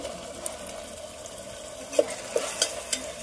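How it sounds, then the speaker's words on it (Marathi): Chopped tomato sautés with browned onion in a pan for a Konkan-style cashew curry, a soft steady sizzle broken by a few light stirring clinks and scrapes. "टोमॅटो आपल्याला हलकासा परतून घ्यायचा आहे।"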